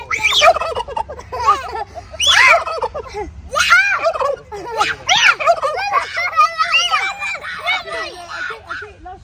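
Turkeys on a farm gobble repeatedly in loud, close, overlapping bursts, the calls rising and falling in quick rattling waves with barely a pause.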